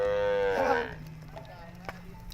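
Cattle driven across Borana country in Kenya, a single close, loud moo with strong tonal harmonics lasting under a second, trailing into quiet ambient background with a faint distant click.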